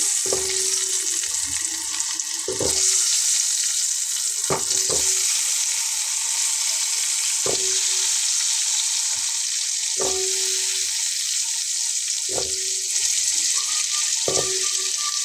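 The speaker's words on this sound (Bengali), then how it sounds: "তারপরে আমি এখন প্রথমে আলুগুলো দিয়ে নিচ্ছি" Potatoes slide into hot oil and fry with a steady, loud sizzle throughout, punctuated by several sharp scraping or clinking knocks of a utensil every two to three seconds, with no talking.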